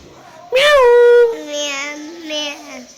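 A voice imitates a cat, giving a drawn-out high meow followed by two softer, wavering meows.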